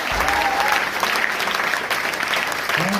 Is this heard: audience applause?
yes